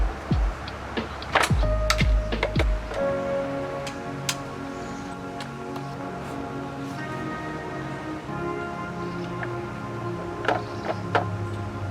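A ratchet works at the timing cover bolts on a Subaru engine, giving quick metallic clicking runs and scattered sharp ticks, close and fairly steady, with a few louder knocks near the start.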